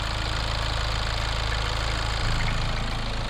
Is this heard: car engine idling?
yes